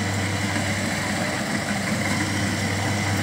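A combine harvester engine runs steadily in a wet, muddy rice field, a loud continuous low drone with a constant hum and no breaks, close by and alone.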